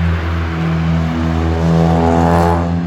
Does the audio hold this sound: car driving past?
yes